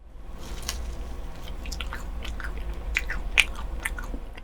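Close, crisp bites and soft chewing of a Nutella waffle topped with banana and whipped cream, with several crunchy snaps scattered over a low background hum and no talking.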